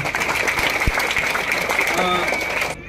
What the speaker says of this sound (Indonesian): Tepuk tangan bersama, mari.